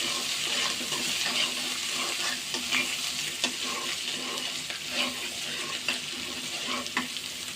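Ginger, garlic, cumin, turmeric and salt fry and get stirred in a pot for khichuri, producing a close, constant sizzle with soft scraping and occasional small pops.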